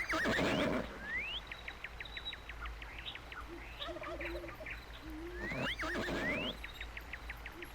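Horses neigh in the virtual world of Second Life, with one loud whinny at the start and another near the end, between them rapid chirping calls, light hoof clops and other animal sounds, all without voices.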